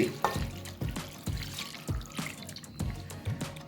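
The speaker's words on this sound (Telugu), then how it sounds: "ఒక అర లీటర్ వాటర్ని అయితే ఇక్కడ నేను దీంట్లో వేసేస్తున్నాను చూడండి" Half a litre of water poured into a country chicken curry in a pressure cooker, a steady close-up pour with repeated splashy bursts and no talking.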